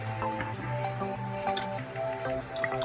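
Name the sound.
homemade spaghetti sauce being poured into canning jars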